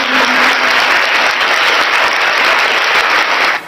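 Loud, dense applause from a crowd fills the whole stretch as a steady wash of many hands clapping, then cuts off abruptly.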